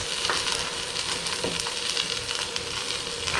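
Seasoned beef sears in an Instant Pot, giving a continuous close sizzle and crackle with occasional small pops, steady in level and free of talk.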